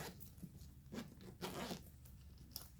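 A zipper is drawn on a JB Cases 3x6 carrying case with colored zipper pulls and black and purple backpack straps: several quick, close raspy zip strokes in short bursts, with no talking.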